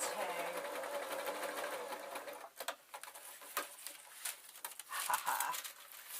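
A sewing machine stitches fabric for a dwarf hat, a fast rhythmic mechanical whirr at first, then slowing into separate clicking stitches and handling noises, close and moderately quiet.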